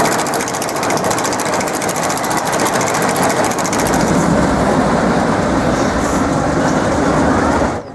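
A Mack bobsleigh roller coaster runs loudly and close for the whole stretch, a steady rumbling roar with rattling, clattering wheel noise that stays dense throughout and cuts off abruptly at the very end.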